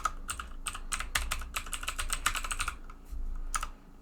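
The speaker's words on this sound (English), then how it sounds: "So now that I've typed in a name" Typing on a computer keyboard in software entry, a quick run of crisp clicking keystrokes in bursts with a short pause near the end, close and fairly quiet, no voices.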